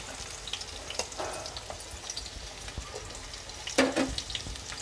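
Onions added to hot oil and ghee in a pan, a soft steady sizzle with scattered crackles, a few stirring clatters and a sharper burst near the end, close and moderately quiet, no speech.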